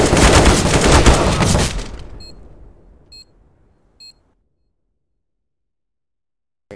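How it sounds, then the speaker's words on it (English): In Counter-Strike: Global Offensive, a loud burst of blasts and gunfire fades away over two seconds, followed by three short evenly spaced electronic beeps of a planted bomb and then silence. "I am planting the bomb. I'm throwing the flashbang."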